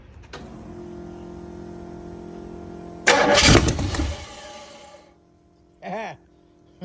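A Ford Anglia street rod engine is started for the first time: a starter whirs, then the engine catches with a loud burst and runs roughly before cutting out, followed by a brief whirring sound.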